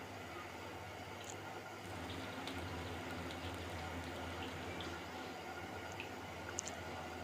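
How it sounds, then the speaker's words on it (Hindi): Spring rolls, aloo rolls made at home, fry in hot oil in a kadai, giving a quiet, steady bubbling sizzle with faint pops and crackles throughout. "अब इसको कढ़ाई में मैंने फ्राई करना है"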